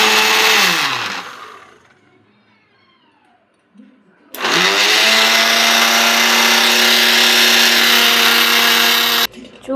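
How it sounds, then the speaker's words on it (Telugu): A kitchen mixer grinder whirs loudly as it grinds bread into powder, running in one burst, stopping for a quiet pause, then spinning up again into a long, steady high-pitched whine before cutting off. "చూడండి, ఇప్పుడైతే మిక్సీ పట్టుకోవాలి."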